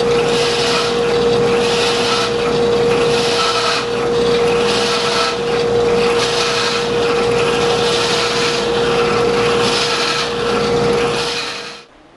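A 1.5 inch hole saw cuts through a resin-cast manzanita blank, a loud, steady grinding whine with rhythmic rasping surges that runs continuously for about twelve seconds before stopping abruptly.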